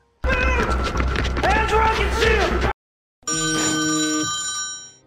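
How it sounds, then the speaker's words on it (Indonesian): A telephone rings in a war film and wakes a sleeping man. A clear, steady electronic ring sounds alone after a stretch of talking. "Miller yang sedang tertidur dikejutkan dengan telepon dari Weaver"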